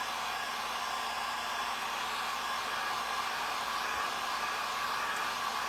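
A hair dryer blows steadily to dry fresh paint during a thrift-store craft makeover, an even whooshing hum that runs alone for several seconds at constant, moderate loudness.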